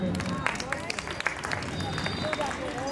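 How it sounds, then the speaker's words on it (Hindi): An audience at a children's stage play performance applauds, scattered claps over a busy crowd murmur, moderately loud with voices chattering underneath. "मैं चाहती हूँ उनके करने से पहले आप लोग तालियां बजा दें।"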